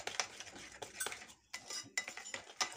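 A utensil stirs biscuit-cake batter, made without butter or milk, in a bowl, giving quiet repeated scraping strokes and light clinks against the sides, with no talking.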